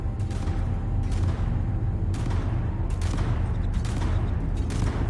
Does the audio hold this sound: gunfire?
yes